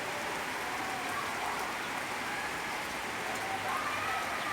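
Rain falls in a steady, dense hiss, with drops spattering on a surface throughout and no talking.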